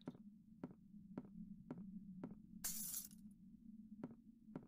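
Glass shatters in the horror video game The Crooked Man, a short bright crash that cuts through a quiet, steady heartbeat-like thumping pulse.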